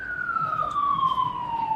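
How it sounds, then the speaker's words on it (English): A police siren wails steadily from a nearby road, its tone sliding slowly downward over a low rumble of background traffic. "You're going to hear bikes, police, sirens, ambulance, all sorts of things because I'm so close to the road"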